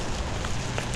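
Heavy rain pours at a Philippine market, a loud dense hiss of drops with no break across the moment and no voices.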